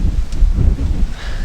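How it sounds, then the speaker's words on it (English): Strong wind buffets the microphone in low rumbling gusts, loud and close, with no voices over it, in freezing cold weather. "It's really windy."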